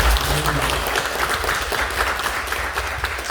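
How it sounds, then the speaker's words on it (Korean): A church congregation at Naksan Bangju Church claps together in a steady, dense round of applause, with some low voices underneath. "그렇게 역사하실 주님께 영광의 박수를 함께 올려드리겠습니다."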